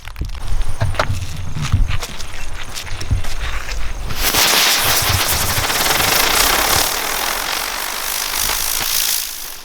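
A lotus-type Diwali firecracker from Sivakasi bursts outdoors, a loud sustained fizzing, crackling roar that takes over after several scattered sharp pops and holds steady for the rest of the clip.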